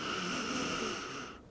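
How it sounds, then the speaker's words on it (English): Slow breathing through the nose during a guided yoga breath cycle for the back, a steady airy hiss that holds briefly and then fades out, close and alone. "We're going to take a full breath cycle together in your nose"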